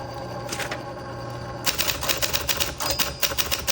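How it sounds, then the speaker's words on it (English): A 1971 Adler Satellite manual typewriter clatters under quick typing, with a few soft taps at first and then a dense, rapid run of sharp, close keystrikes, with no talk. "So let's say you're typing."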